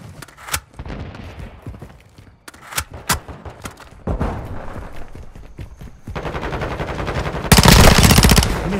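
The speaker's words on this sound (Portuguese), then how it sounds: "Estão atirando em mim." Loud gunfire in Call of Duty Modern Warfare 2 multiplayer: sharp separate shots early on, then sustained automatic bursts growing denser and louder toward the end, close and dominant.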